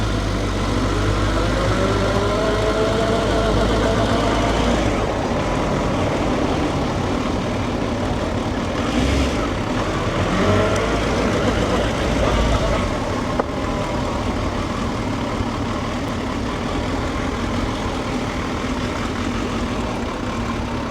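A Suzuki Bandit 1250FA motorcycle engine idles smoothly at about 1000–1100 rpm, a steady low rumble running continuously from start to finish with no speech.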